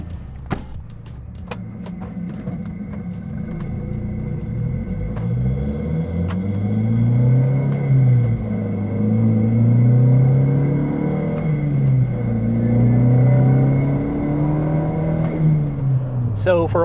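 Engine and exhaust of an MK6 GTI running the stock downpipe with a stock-diameter 2.5-inch catback, a steady low drone rising and falling in pitch as the car pulls through gears, loud and close throughout.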